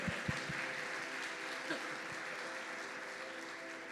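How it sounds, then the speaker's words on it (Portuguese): Church congregation applauding during a worship service, a steady wash of clapping that holds throughout at moderate distance, with a few sharper claps standing out at the start. "Pode aplaudir o Senhor em nome de Jesus."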